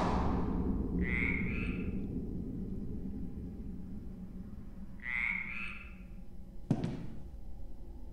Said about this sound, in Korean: 개구리도 있네?